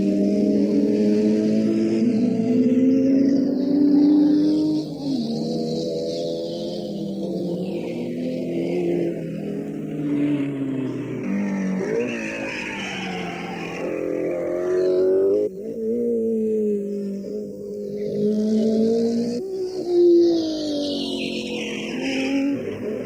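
Race cars at the 1965 Targa Florio, including a Sprite and a bent, battered Ferrari GTO, screaming through gears with rising and falling engine notes and repeated shifts, loud and continuous.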